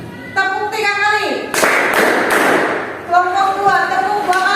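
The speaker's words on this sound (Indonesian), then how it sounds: "Kelompok 1 tepuk 1 kali. Kelompok 1 tepuk 3 kali." Groups of schoolchildren in an Indonesian classroom clap their hands in turn on a teacher's cue, giving a dense burst of clapping that comes between stretches of the teacher talking.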